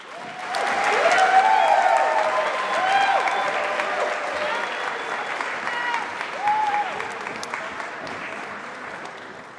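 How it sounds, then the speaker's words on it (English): A full house at a school auditorium breaks into sustained applause that swells early and then holds steady, with a few cheers and voices mixed into the dense clapping. "Can we please have one more round of applause of an amazing full house tonight?"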